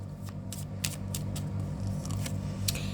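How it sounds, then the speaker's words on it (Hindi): Tarot cards are shuffled in soft, quick riffling bursts, several brief crisp flutters spaced irregularly over a faint background hum, close and fairly quiet, with no talking. "Last shuffle."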